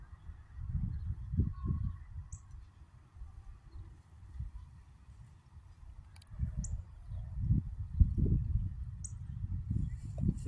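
Geese honking in bursts, several loud calls close by from adult geese with goslings, quieter stretches between, over outdoor background noise.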